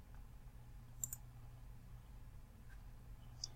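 A computer mouse clicked on a horizontal ruler in Word 2016, giving a few faint, sparse clicks over a low steady hum, with no voices.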